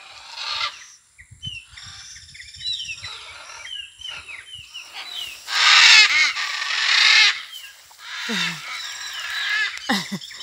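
Agitated macaws, yellow and red, squawk harshly in repeated loud bursts that overlap and swell mid-clip, with scattered calls trailing off as the birds fly toward a marsh.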